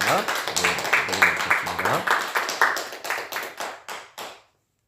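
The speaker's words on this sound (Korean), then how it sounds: "우리 하나님께 영광의 박수 올려드립니다." A church congregation claps in rhythmic bursts that grow stronger, then thin out and stop, with voices mixed in.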